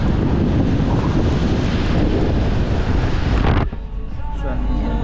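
Strong wind roars loud and steady through an opened car window on a drive, then drops sharply partway through as the rush eases.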